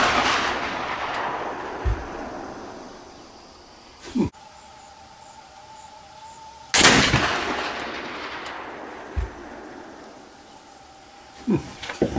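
A Kibler Woodsrunner muzzleloading rifle loaded with Goex black powder fires in a few sharp, loud outdoor reports with echoing decay, one blast standing out, against a quiet background of crickets and insects.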